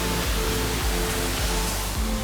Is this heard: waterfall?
yes